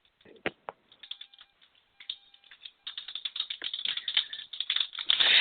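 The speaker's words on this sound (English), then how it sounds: "what you're hearing in the background, everyone, is me typing 70 words per minute as I type that into the event page" Fast typing on a keyboard, a rapid stream of sharp key clicks that starts sparse and builds into a dense, steady clatter, close by, with no voices.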